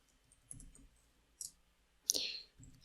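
A few faint, sparse clicks from a computer keyboard or mouse during work in Power BI, spaced irregularly across a quiet room, with one slightly louder snap near the end.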